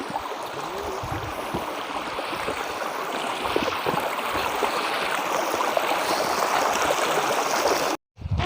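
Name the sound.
Chaul Bhaja waterfall, Mayurbhanj, Odisha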